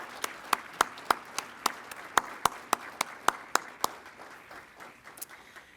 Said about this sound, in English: Please join me with a round of applause to thank all who have served our country